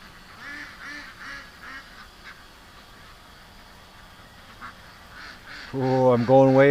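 A short run of rhythmic duck quacks sounds at moderate distance, then fades, and a much louder, close call bursts in near the end.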